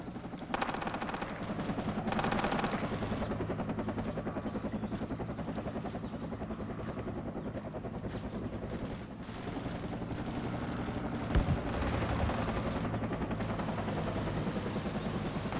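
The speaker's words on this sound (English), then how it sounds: "Here comes the chopper." A helicopter in the military shooter Project Reality thrums loudly and steadily overhead throughout, with rapid bursts of machine-gun fire and scattered gunshots around it.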